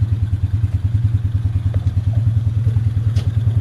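A motorized three-wheeler samlor engine from Trang, Thailand, chugs with a steady rhythmic low pulse while being revved and shifted through gears, close and loud, with no talking.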